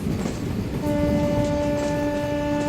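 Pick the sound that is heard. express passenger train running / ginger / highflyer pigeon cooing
express passenger train running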